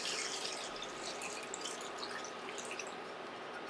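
Water running into a cooking pot on the stove, a continuous soft splashing trickle with scattered drips, faint and steady, no voices over it.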